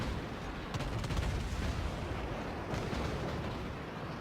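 Faint rumbling bursts of gunfire in a video game training session, a dense low rolling barrage with a few sharper cracks, distant and muffled throughout.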